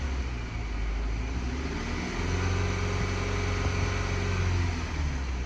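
A Cadillac CT5 engine runs with its MAF sensor disconnected, giving a steady low rumble with a faint whine, close and even, with no talk.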